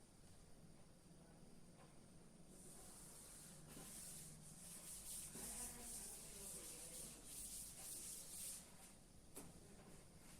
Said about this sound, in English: So I will rub out this.